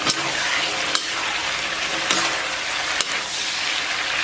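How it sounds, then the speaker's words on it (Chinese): Pig intestines with chili and onion stir-fry in a wok under a loud, steady, close sizzle, with a few sharp clacks of a spatula against the metal spaced through it and no speech. "把肥肠给它下到锅中，咱们简单把肥肠给它煸炒一下"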